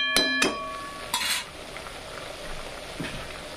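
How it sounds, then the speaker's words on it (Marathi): Spice masala frying in a pan for paneer tikka masala gravy, a low soft sizzle broken by a few sharp metallic clinks of a spoon against the pan. "छान मसाले फ्राय होत आहेत"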